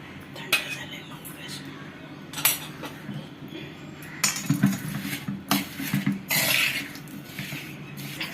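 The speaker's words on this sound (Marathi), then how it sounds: "ह्याच्यात गुळ घालून घ्यायचंय ह्याला व्यवस्थित मिक्स करून घ्यायचं आहे" A ladoo mixture is worked together with jaggery in a bowl, producing irregular clinks and scrapes of utensil against the dish in uneven bursts, with faint voice in the background.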